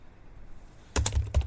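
Quick burst of keystrokes on a computer keyboard, entering a command on a Windows 11 system after a quiet pause; close, crisp taps with no talking.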